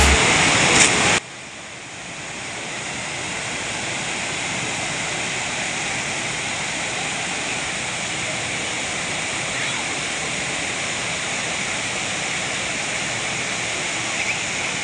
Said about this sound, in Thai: ก็จะมีฝาย กักเก็บน้ำไว้นะครับทางด้านนี้ ก็ไว้ชะลอน้ำนะครับ